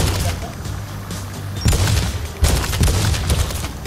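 Shooting in the video game Crash Bandicoot 3 Warped, bursts of rapid gunfire with booming impacts, loud and close, with two heavier blasts, over game background noise.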